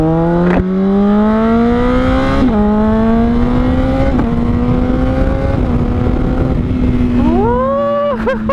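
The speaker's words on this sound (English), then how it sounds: "First time test driving right now with my QuickShifter, my Toce exhaust." A Honda CBR600RR fitted with a Toce exhaust and Translogic quickshifter accelerates hard, its loud, close engine note climbing through several quick upshifts with brief dips between gears, then revving up again near the end.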